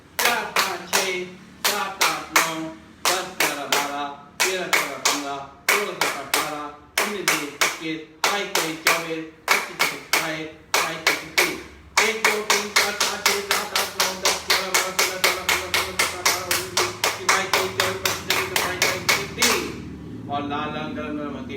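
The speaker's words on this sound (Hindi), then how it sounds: "खड़े हो जाएंगे अपने स्थान पे और जोर से ताली बजाएंगे।" A yoga group clapping hard in unison, steady separate claps in the first half, then a faster, even run of claps, with a voice calling out a count over the rhythm.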